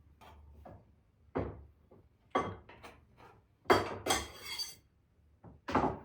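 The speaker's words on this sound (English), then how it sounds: "don't scrape your knife against the wood" Kitchen knife scraping across a wooden cutting board while gathering finely chopped prosciutto for a stuffed shells filling: a series of short, rough scrapes and taps, some brief and some longer, close and fairly quiet with pauses between strokes.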